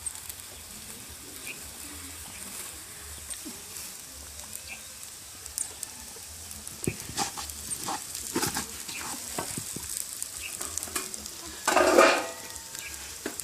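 Crayfish frying in a pan for Cameroon party rice, a steady low sizzle with faint stirring and clinks, growing a little busier toward the end with a brief louder burst near the close.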